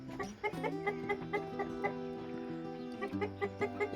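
Chickens in a breeding pen with a big white rooster, clucking steadily and close by in a dense, busy chorus of overlapping calls with no talking.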